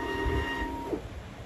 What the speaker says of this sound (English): The sound of, well, a label printer